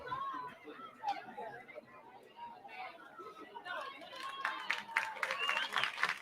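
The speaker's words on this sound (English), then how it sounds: "And the big fella gets to his feet, gets a nice round of applause from the faithful" A high school football crowd, Jonesboro vs Tri-Cities, breaks into a round of applause as an injured player gets to his feet; the clapping swells near the end under chatter and a commentator's voice.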